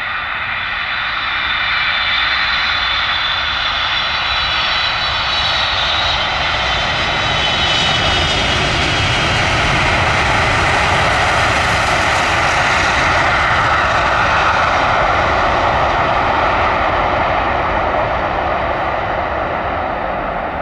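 Engines of a Boeing 747 heavy jet at Amsterdam airport roar loudly and continuously, swelling and shifting in tone as the aircraft passes close by.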